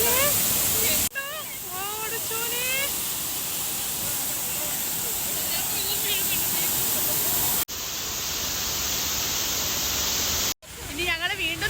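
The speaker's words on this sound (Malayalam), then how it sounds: "വെള്ളച്ചാട്ടം." A waterfall's continuous broadband roar fills the scene outdoors during a trip, with people talking over it and a couple of abrupt cuts in the recording.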